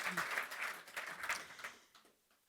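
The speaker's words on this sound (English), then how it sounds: "give them a round of applause" Audience applause for change makers: a short burst of clapping from a gathered crowd that thins out and dies away within about two seconds.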